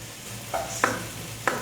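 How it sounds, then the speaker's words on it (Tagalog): Anchovies (dilis) are sautéed in a pan with a soft, steady sizzle, broken by three quick utensil scrapes or clinks against the pan. "isama nyo sa pagigisa"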